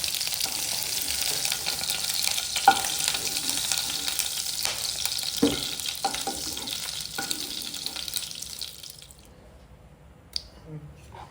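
Paneer frying in oil hisses and sizzles steadily at close range, broken by occasional clinks and stirring knocks from a utensil; the sizzle drops away abruptly near the end, leaving a near-silent tail with a faint tap.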